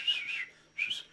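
A person whistles a high melodic phrase, two short bursts separated by a brief pause, clear and fairly close, with no talking.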